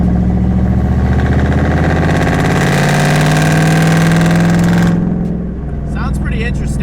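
A Ford Mustang GT with a homemade side-exit exhaust drones loud and steady under load on a wet road, a deep rumble holding for about five seconds before easing off.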